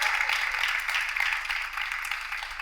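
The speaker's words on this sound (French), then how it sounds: "S'il vous plaît, on peut les applaudir encore une fois." A studio audience applauds on a French television dating show, a steady, moderately distant patter of clapping over a low background hum.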